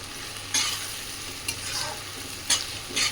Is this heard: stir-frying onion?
yes